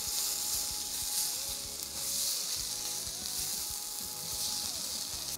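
Tomato paste sizzles and fries loudly in a pot with rice-dish ingredients as it is tossed, a dense continuous hiss with faint stirring clatter underneath, close and steady throughout.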